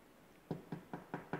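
Five evenly spaced knocks on a door, sharp and fairly close, tapping out a steady rhythm against quiet room tone.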